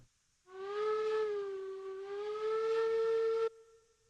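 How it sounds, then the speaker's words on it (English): A steam locomotive whistle in the Railroads Online train game blows one steady, loud blast for about three seconds, then cuts off sharply with a short fading tail. "the first time you play a whistle sound"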